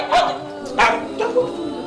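Dogs barking in a Yoruba drama scene, three separate loud barks spaced about half a second apart, close by and with no talk over them.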